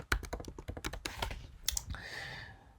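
Code is tapped out on a computer keyboard in quick, close, irregular clicks and key thunks, the typing easing off toward the end.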